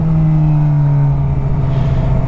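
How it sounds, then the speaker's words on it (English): A Suzuki GSX-R750 motorcycle rides along with a loud, steady engine drone whose pitch dips slightly, heard up close with wind rumble underneath. "I want the sound to be nice and crisp, the sound of the bike."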